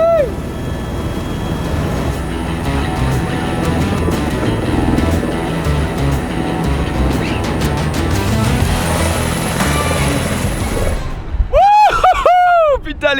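A loud helicopter over Réunion drones steadily with thumping rotor noise, and near the end the pitch sweeps up and down as it passes close by.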